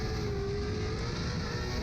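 Vaughn Gittin Jr's drift car held in fifth gear, a sustained loud engine drone with a steady pitch that rises slightly, continuous and close with no talk.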